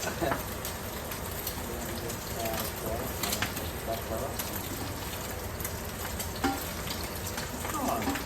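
Eggs fry in a pan with a steady, close sizzling hiss that fills the whole stretch, with faint clinks and a voice talking over the top.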